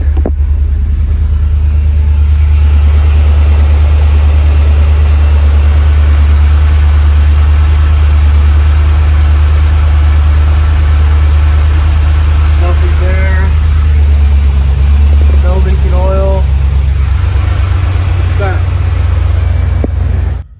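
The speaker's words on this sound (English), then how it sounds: "So turn on the truck." A 2014 Ford Raptor SVT SE pickup truck engine settles into a loud, steady low rumbling idle that continues throughout, with a person talking briefly over it partway through.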